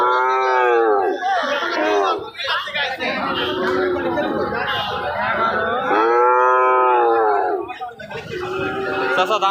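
Cattle at a new cattle market in Joypurhat, where Indian bulls and calves are sold, moo loudly with long drawn-out lowing calls, several in succession, over a busy crowd chattering in the background.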